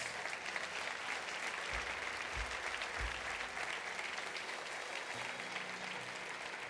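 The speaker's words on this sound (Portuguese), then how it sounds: "Você pode dar ao Senhor mais um forte aplauso por cada um deles." Sustained applause from a church congregation, steady and dense throughout, with a few low thumps underneath.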